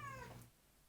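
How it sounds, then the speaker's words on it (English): A house cat yelling a single short, loud meow with a harmonic, falling whine, up close, then quiet room tone. "My cat's yelling at me."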